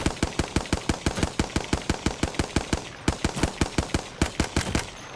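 Hemlock rifle gunfire in the video game Apex Legends rings out in rapid, evenly spaced shots. Loud, sharp reports come in regular bursts, with a brief pause near the middle before firing resumes.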